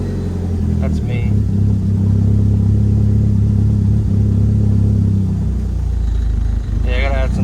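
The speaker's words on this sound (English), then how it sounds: "I take my foot off the throttle, it drops." The engine of a 1997 Mitsubishi Eclipse GSX idles loudly, climbs in a sustained rev, then drops back as the throttle is released, all heard up close with a steady low rumble.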